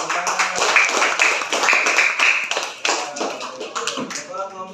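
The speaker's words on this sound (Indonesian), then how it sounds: "Tepuk tangan" Fifth-grade pupils clap for a classmate group in a classroom: a ragged burst of many hands with sharp, irregular slaps lasting several seconds, close by, with children's voices mixed in.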